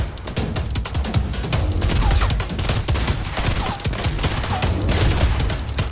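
Dense video game gunfire rattles continuously, rapid overlapping shots and cracks forming a loud, steady fusillade that lasts the full six seconds.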